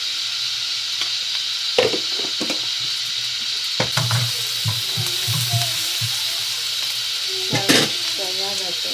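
Turmeric and salt sizzle in a hot pan while making aloo paratha, a steady frying hiss with a few clinks of a spoon stirring and scraping.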